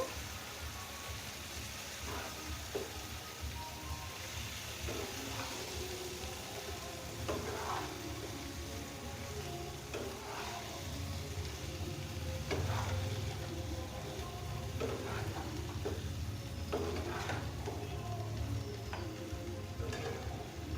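Dal ingredients with turmeric being stirred in a pan for chalkumro arhar dal, a steady low sizzle under intermittent scraping stirs of a spoon, no talking.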